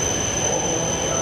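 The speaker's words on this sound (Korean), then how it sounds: "이렇게 제가 탈 열차인 토마치오가 아니고 저 뒤에 연결된 하야부사호가 들어오고 있습니다." A Hayabusa Shinkansen, coupled with a Komachi train, arrives at a Japanese station platform with a steady rolling rumble and a high sustained whine, loud and close, heard on its own.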